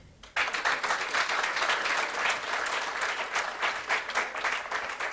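Symposium audience breaks into sustained applause after a speech, a dense wash of many hands clapping that starts abruptly and holds steady, fairly loud and close, with no talk over it.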